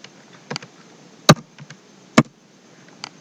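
Laptop keys are struck while a short command is typed, giving a few sharp separate clicks: two louder taps and several lighter ones spread unevenly through a quiet room.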